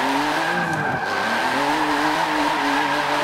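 A race car engine in Forza Motorsport 7 howls steadily in third gear while climbing uphill, loud and sustained with a constant high-revving drone and no breaks, alone without talk.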